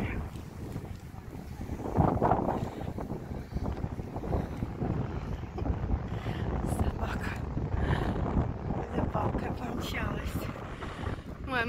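Steady seashore wind buffets the microphone in a constant rushing roar, with faint talk mixed in.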